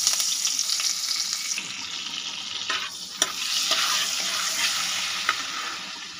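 Butter melting and sizzling in a pan for butter pulao, a steady broad frying hiss with a few soft clicks of stirring, close and continuous with no talk.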